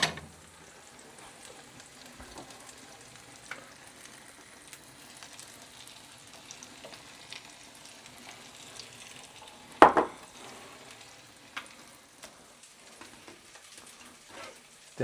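Chips and sausages frying in a pan, a faint, steady sizzle with occasional louder crackles and a clatter near the middle, no voices.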